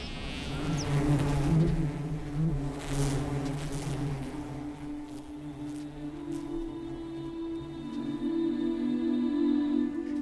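Buzzing of a plasterer bee near its nest in the Dutch countryside on a hot spring day, a steady insect drone with layered tones that swells and holds for the whole stretch, close and fairly loud, no voices.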